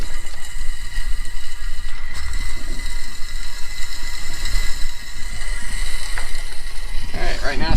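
An oil extractor tool draws the last oil from a Scag mower, giving a loud, steady mechanical rattling hum close by that ends in a brief gurgle.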